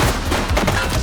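Gunfire in the police game The Precinct, a dense, loud burst of rapid overlapping shots filling the whole moment without pause.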